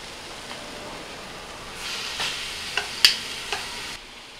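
Tinga ingredients browning in a pan, a soft steady sizzle with a few sharp clicks and scrapes of stirring near the end, close and fairly quiet, no talk.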